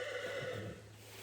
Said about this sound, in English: this horse wants to come hang out with me